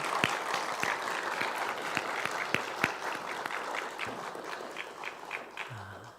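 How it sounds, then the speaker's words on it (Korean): A church congregation applauds the choir during an Easter Sunday service, a fairly quiet, distant patter of many hands with some sharper individual claps, tapering off near the end. "우리 귀한 성가대 위해서 박수 한번 하도록 하겠습니다."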